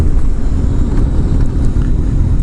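Steady low engine rumble of a Triumph motorcycle while riding, loud and continuous with wind noise and no pauses.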